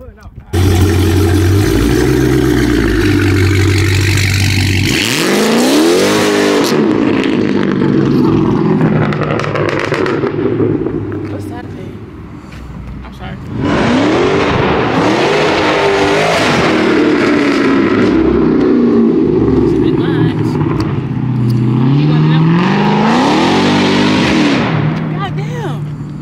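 A car engine revving loudly as the car pulls out, with roaring surges and pitch sweeps rising and falling over about 26 seconds, close and dominant, with a brief dip in the middle.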